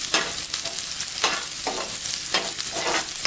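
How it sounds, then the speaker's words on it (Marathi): Onion sautéing in a pan with oil gives steady close sizzling, with rhythmic scraping bursts as a spatula stirs it about every second, and no talking. "कांदा चांगला असा आपण परतून घेऊया"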